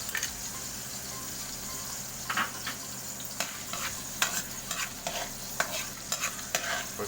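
Garlic sizzles steadily in hot oil for spicy laing, with a constant frying hiss and repeated soft scraping stirs in the pan, close and clear with no talking.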